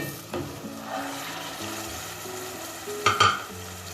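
Mutton liver fries with ginger and garlic for a kaleji salan, a soft, moderate sizzle with a few sharper crackles and a clink near the end, no voices.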